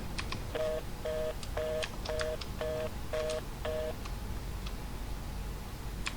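A house telephone in the video game Driving Home is dialed, giving seven evenly spaced touch-tone beeps over a steady low background hum.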